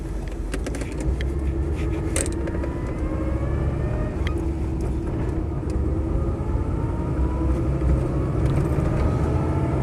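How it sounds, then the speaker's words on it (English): A Land Rover 90 V8 station wagon drives along steadily, its engine a deep continuous rumble with road and cabin noise heard from inside, without speech. "let's take this Land Rover 90 V8 for a spin"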